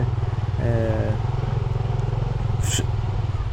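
Yamaha PG-1 motorcycle engine running close by, a loud steady throbbing idle with a short rising rev and a brief clatter, while someone talks over it.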